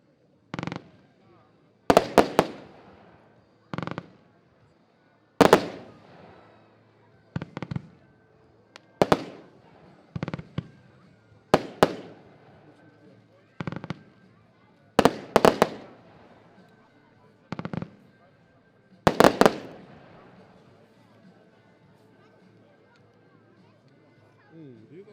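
Diamond brand fireworks fired at a demonstration shoot, a series of about a dozen sharp booming bursts spaced a second or two apart, some doubled, each ringing out briefly with crackle; a crowd murmurs faintly between shots.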